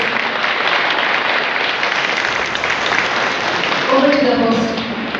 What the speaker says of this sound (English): shall we all give a round of applause for all this?